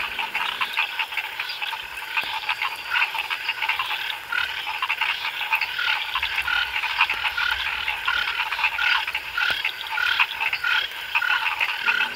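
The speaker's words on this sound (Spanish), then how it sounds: "existen sitios específicos donde poder observar las ranas y algunos otros batracios" A dense chorus of frogs croaks on a farm in Turrialba, Costa Rica, many overlapping calls trilling continuously and fairly loud across the whole stretch, with no voices.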